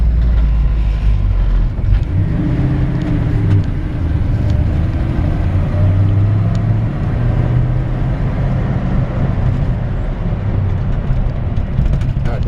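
A 1957 Chevrolet 3100 pickup with a manual transmission drives along, its engine a steady loud low rumble throughout, with slight shifts in pitch as it moves and no talk over it.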